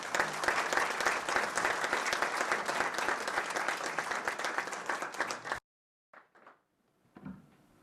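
An audience applauds to welcome a speaker at a Steamboat Institute meeting, a dense sustained clapping for about five seconds that stops abruptly, followed by a few faint knocks and rustles.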